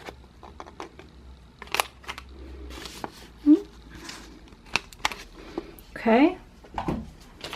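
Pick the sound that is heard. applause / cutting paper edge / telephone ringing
cutting paper edge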